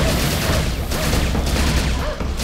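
Dense, continuous automatic Uzi fire from the video game Serious Sam 2, loud and close, with booming explosions mixed into a steady roar of battle throughout.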